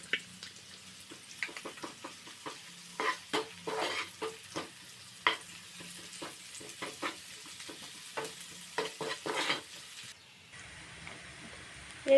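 Ginger paste frying in a pan with chili and bay leaf for a raw banana kofta curry, stirred with bursts of scraping and sizzle for about ten seconds before falling quieter.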